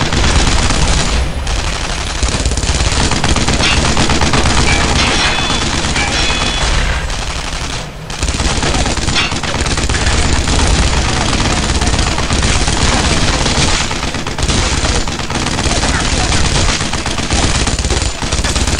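Sustained machine-gun fire from an MG nest in a WWII video game, dense continuous bursts nearly unbroken for the whole stretch, loud and close, with a low engine rumble underneath.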